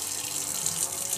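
Cold tap water streams steadily over salt-cured egg yolks at a kitchen sink, a short, close, continuous hiss of running water with no talk.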